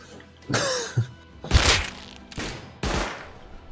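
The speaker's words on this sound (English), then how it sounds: "Oh god, I'm getting shot by another guy." Gunfire in the survival video game Rust, a burst of several heavy, booming shots spaced irregularly over a few seconds, loud and close with no talk over them.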